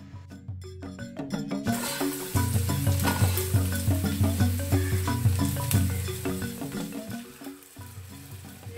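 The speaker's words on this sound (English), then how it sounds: "Add 2 tablespoons of oil to a hot biryani pot and add 1 sliced onion and saute well." Sliced onion sautés in hot oil in a biryani pot, a loud, continuous sizzle broken by repeated stirring scrapes and clinks, heard up close with a tonal ringing underneath.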